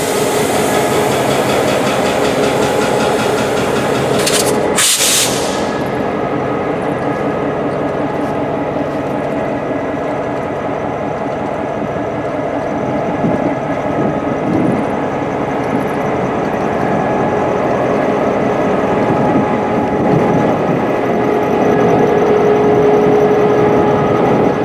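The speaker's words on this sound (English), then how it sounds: "CSX GP38-2 number 2628 ex-Louisville in Nashville in the idle position at this time." CSX GP38-2 diesel locomotive number 2628, ex-Louisville and Nashville, idling in a rail yard: a steady low engine rumble with hiss and a brief sharp air release near the start, continuous and fairly close.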